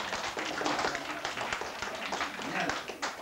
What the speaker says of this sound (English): Will you give our fine warriors a round of applause?